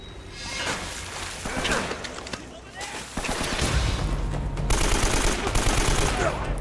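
Gunfire in Uncharted: Drake's Fortune, with rapid bursts of shots and impacts building louder toward the end, mixed with a voice talking over the fighting.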